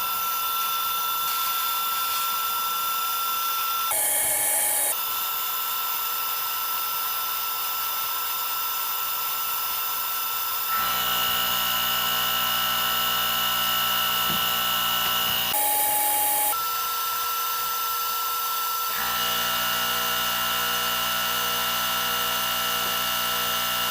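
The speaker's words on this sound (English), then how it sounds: "The sandblaster sure does make fast work of de-rusting." A sandblaster strips rust from the metal parts of an antique tackle box. It gives a continuous loud hiss with a droning motor under it. Brief bursts and pauses shift the tone, and a deeper compressor hum enters partway through.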